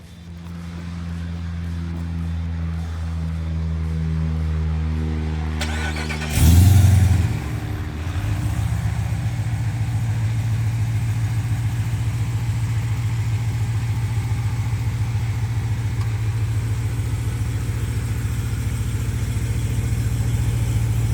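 A V8 engine in a Jeep Trackhawk SUV with headers and a catback exhaust revs once near the start, then settles into a deep, throaty idle with a steady rumbling exhaust pulse, close and continuous.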